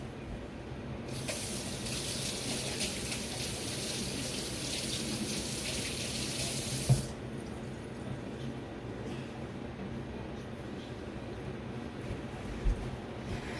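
Water gushes from a kitchen tap while rhubarb is washed, a steady close hiss for several seconds, then stops, leaving quiet handling sounds with a couple of soft knocks.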